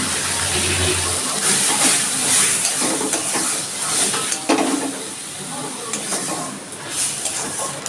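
Half-ground prawn paste sizzles steadily in a hot pan, with scraping stir strokes and occasional louder spatters over a constant close frying hiss; no talking.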